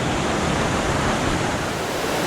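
A creek along the Colorado Trail in the Weminuche Wilderness rushes in a steady, loud, dense wash of flowing water, close to the listener, with no breaks or voices.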